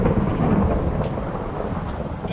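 Minecraft thunderstorm with rain: a loud, continuous rumble of thunder mixed with the steady hiss of falling rain, dense and close, with no voices.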